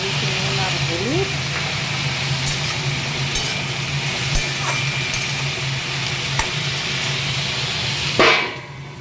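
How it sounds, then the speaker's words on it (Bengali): Gourd peel and potato frying in hot oil with a dried red chilli, stirred in the pan: a steady, close sizzle runs throughout, with a brief louder scrape or clatter near the end. "লাউয়ের খোসাটা আলুকে একটু ভেজে দিলাম"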